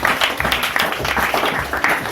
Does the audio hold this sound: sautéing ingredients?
no